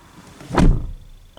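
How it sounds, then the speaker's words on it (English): A Kia Ceed car door swings shut with a single dull, close thunk, followed by a brief faint tick. "See, like, with the sound of the door and everything, I can't tell if it's ajar or if it's closed properly."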